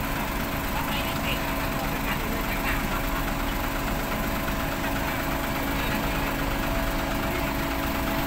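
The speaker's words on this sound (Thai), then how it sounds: "นี่คือรถปูยางซูมิโตโม" A Sumitomo SA60W asphalt paver engine runs at a steady idle, a continuous close mechanical drone with a slight knocking texture, with a voice talking over it.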